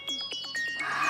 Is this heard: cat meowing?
no